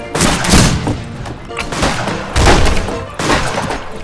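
Gunshots in the Western shooter game Fistful of Frags come as loud, close bursts of heavy shots with thudding booms, several clusters over a few seconds.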